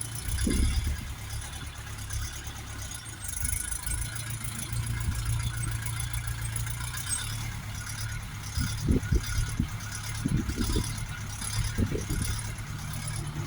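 A Lovol TE 354 RE cab mini tractor's 35-horsepower engine idles steadily with a low, even rumble throughout, with some faint knocks and clatters nearby.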